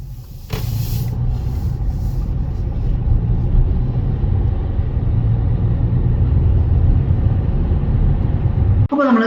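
A Hyundai Avante, suspected of a worn wheel bearing or tire, makes a loud, constant low rumble and road drone from inside the moving car, with a brief knock near the start and another near the end.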